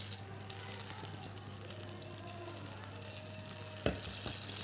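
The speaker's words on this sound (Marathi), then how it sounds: "कढईमध्ये आपण एक मोठा चमचा बटर टाकून घेतलेलं आहे. बटर सोबतच आपल्याला एक चमचा तेल देखील टाकायचं आहे." A large spoonful of butter with a spoon of oil heats in a kadai for pav bhaji, giving a steady, faint frying hiss with an occasional louder click or tap near the end.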